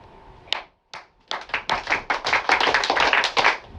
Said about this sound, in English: I think everybody's been clapping their hands.